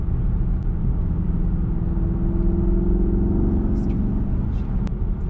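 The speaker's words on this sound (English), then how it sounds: "You can hear the turbo spooling up." 2019 Porsche Panamera Turbo cabin on the move, with a steady loud engine drone and tonal bands that rise gently as the turbo spools, and occasional voices over the top.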